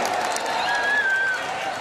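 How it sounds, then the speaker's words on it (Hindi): An audience at a Singrauli pride day celebration applauds, with dense, steady clapping and crowd noise throughout and a thin whistle-like tone rising briefly above it. "जोरदार ताली बजाए अपने गौरव दिवस के लिए"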